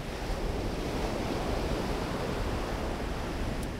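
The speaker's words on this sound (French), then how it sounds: "Là il y a pas mal de vent hein, quand même." Strong outdoor wind buffets a Comica CVM-VM20 shotgun microphone running a 150 Hz low-cut filter, producing a constant broadband roar like surf that holds steady and loud without gusts or speech.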